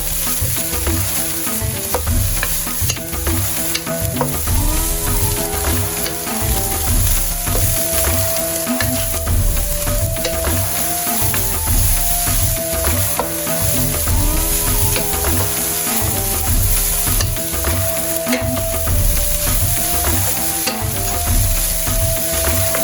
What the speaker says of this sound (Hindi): कैरेट, इसको 1 मिनट के लिए चिकन के साथ अच्छे से टोस्ट करेंगे